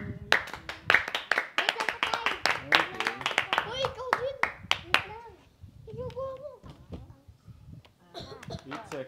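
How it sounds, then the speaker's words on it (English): Child clapping hands during a home tutorial, a run of sharp claps in quick uneven bursts at close range, with adult and child speech in between. "Can you clap your hands, my son?"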